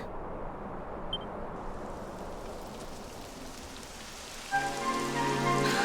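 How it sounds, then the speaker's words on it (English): Steady rain in the video game Dragon Quest XI S hisses across the whole stretch, a dense, even patter, joined near the end by a brighter sustained tone layered over the downpour. "It would have to go and start raining, wouldn't it?"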